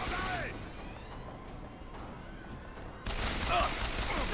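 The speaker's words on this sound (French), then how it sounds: "Tirez sans arrêt." Continuous gunfire in the shooter game Bioshock Infinite, a dense stream of rapid shots in two bursts separated by a quieter stretch, moderately loud.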